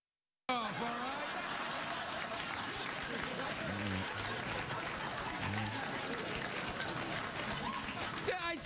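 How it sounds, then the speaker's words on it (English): Studio audience applause on a late-night talk show, a dense, steady wash of many hands clapping that runs loud and continuous for most of the stretch after a brief silent start. "So I did that, and then you applauded."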